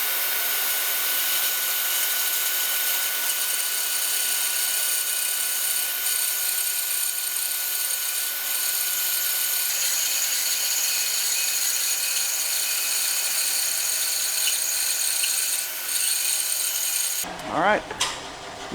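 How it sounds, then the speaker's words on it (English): A power saw resaws a wood board in half, giving a steady, loud, continuous cutting whine for most of the stretch before stopping abruptly near the end. "I'm going to resaw this and cut this piece in half"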